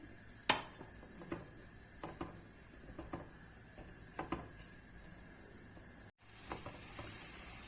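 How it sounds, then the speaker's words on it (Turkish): Onions sizzle faintly in a frying pan, a steady soft hiss broken by occasional light clicks and scrapes of a utensil. "Soğanımızı kavuralım."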